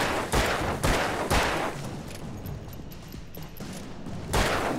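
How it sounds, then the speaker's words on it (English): Gunshots from the video game Alan Wake: several loud, sharp reports fire in an uneven sequence against a steady background of ambient game noise. "Now I'm gonna shoot him."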